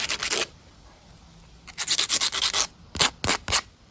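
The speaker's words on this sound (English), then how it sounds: "I'm just going to smooth off the sides a little." Wooden sides of an old shoe shine box being sanded smooth, in two bursts of short, brisk rubbing strokes up close, the second run ending in a few sharper, separated strokes.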